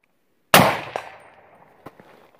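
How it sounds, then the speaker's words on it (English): An AR-15 bolt slams shut on a round with a single loud, sharp metallic clang that rings and fades, followed by a few faint clicks of handling. "close the bolt"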